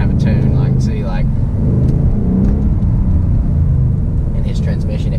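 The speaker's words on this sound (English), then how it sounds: "His engine is still torquey, but not quite as torquey feeling, I don't think, as mine." Engine of a 2018 Ford Mustang heard from inside the car, a loud low rumble that stays steady and close while someone talks over it.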